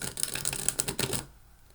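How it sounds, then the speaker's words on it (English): A deck of tarot cards is shuffled during a pick-a-card reading, a fast, crisp riffle of flicking cards close by for about a second before falling quiet. "A couple more shuffles."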